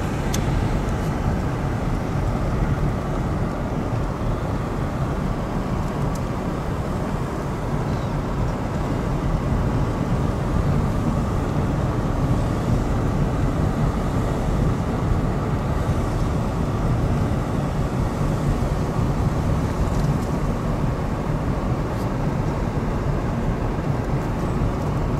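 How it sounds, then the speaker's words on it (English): Steady, rumbling drive of a vehicle rolling over an ancient Roman road, a continuous low roar with rough road texture, constant in loudness throughout with no speech. "Have the full effect of what it's like to drive on an ancient Roman road"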